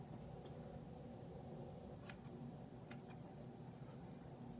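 Scissors trimming short, shaved, dyed hair give a couple of faint, crisp snips over a quiet, steady room hum, with no talking.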